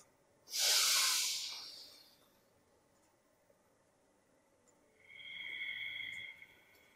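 Two deep breaths during a seniors' yoga exercise: a long, loud, breathy inhale up close, a quiet pause, then a softer, hissing exhale.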